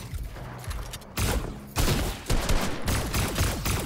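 Rapid bursts of gunfire in the Fortnite battle royale game, repeated volleys of shots in quick succession at close range, loud and dense, with no talking over them.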